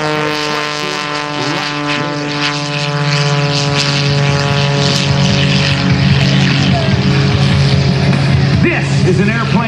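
A loud 400-horsepower propeller aerobatic airplane drones steadily at an air show, with a rich, buzzing engine tone that rises and shifts slightly as it passes overhead.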